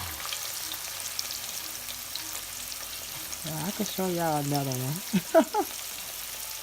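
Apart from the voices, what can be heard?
pork neckbones sizzling in a pot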